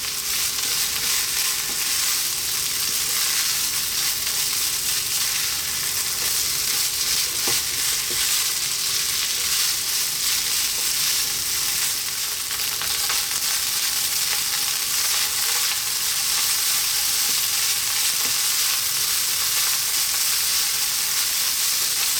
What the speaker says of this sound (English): We're going to go for about 4 to 5 minutes now, staying on this, fairly lively heat. Stirring all the time.